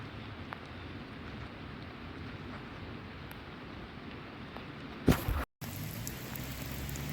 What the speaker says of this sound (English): it's been pouring rain out since I came out today